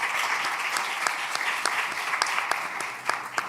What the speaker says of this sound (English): Let's hear a quick round of applause for our speakers.